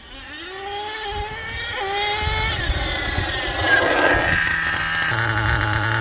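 A nitro-engined HPI Savage RC car with a 3-speed gearbox revs hard and loud, its engine note climbing steadily through the gear changes as it accelerates and then holds at a high buzzing whine.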